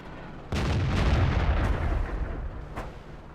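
Tank cannon fire in a World War II tank battle game with an M4, a Grant and a Churchill 7: a heavy boom at about half a second opens a sustained rumbling blast that fades slowly, with a further sharp report near the end.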